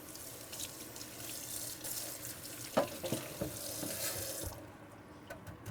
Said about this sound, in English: The lab pan is then cleaned in the sink with the Gleam. And that's rinsed.